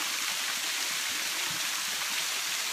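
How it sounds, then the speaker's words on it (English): Water rushes steadily over an old man-made dam in Missouri, a continuous broad hiss and roar heard alone outdoors. "I just come out here and listen to the water and relax."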